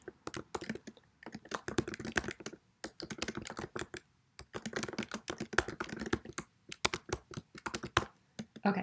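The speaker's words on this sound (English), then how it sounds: "So I'm going to start just typing and I'm going to insert some references." Steady typing on a computer keyboard, close and fairly quiet, with bursts of rapid key clicks separated by short pauses.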